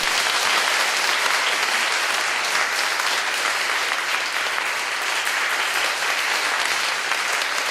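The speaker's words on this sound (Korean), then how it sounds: "우리 박수로" A congregation in a church applauds at a discipleship training graduation service, with sustained, dense clapping from many hands that stays loud and even throughout and carries no speech.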